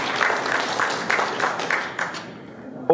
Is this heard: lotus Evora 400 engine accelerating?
no